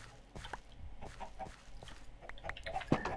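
Minecraft chickens clucking in a blocky game world, several short separate clucks and squawks spread unevenly over a few seconds, with one sharper louder call near the end, fairly quiet and without speech.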